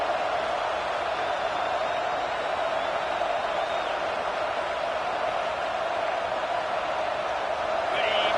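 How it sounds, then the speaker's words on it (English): A football stadium crowd roaring during a college game, a dense continuous wall of cheering and noise with no breaks, steady and loud throughout. "the crowd coming to life here, trying to help this defense down in the red zone"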